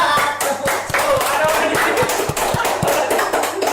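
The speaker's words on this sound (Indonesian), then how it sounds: "Kita berikan tepuk tangan dulu untuk Kay Anastasia" Clapping for a quiz winner during a podcast with traders, a steady run of hand claps throughout with a few sharper, louder claps standing out, fairly close and dense.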